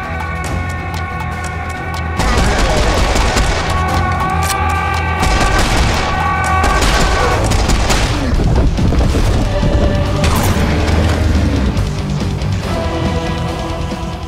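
Gunfire and explosions during a Serious Sam 4 cutscene, loud continuous booming and crashing over a dense musical score, with rapid impacts piling up through the middle.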